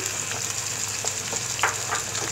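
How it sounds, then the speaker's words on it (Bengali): Onions frying in a pan for egg dum biryani, a steady close sizzle with faint stirring scrapes over a low background hum, no voices. "এগুলোকে আমি একটু ভেজে নিচ্ছি ভালো করে"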